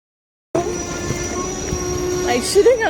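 A train pulls into a station, its steady rumbling drone running throughout at moderate loudness, with a sustained horn-like tone, a squeal rising near the end, and faint background voices.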